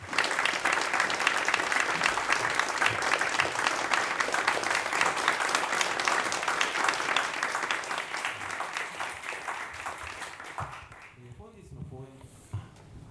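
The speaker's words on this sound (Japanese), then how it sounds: "皆様拍手でお迎えください" A theater audience at a Japan Foundation Awards commemorative talk event claps steadily and loudly for arriving speakers, the dense applause holding for about ten seconds before thinning out and fading near the end.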